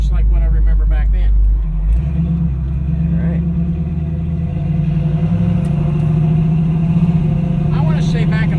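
A stock, reworked 1968 Chevrolet Camaro rumbles steadily as it drives, its deep engine drone loud and continuous throughout, with a voice speaking over it.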